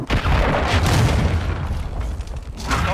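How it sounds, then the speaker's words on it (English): A cruise missile explodes in a Call of Duty Hardpoint match, a heavy booming blast with long rumbling debris and continued roar that fills the clip, loud and close. "Hostile cruise missile launched."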